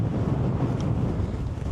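Wind roars steadily across the microphone, a dense low rumble with no talking, loud and constant for the whole stretch.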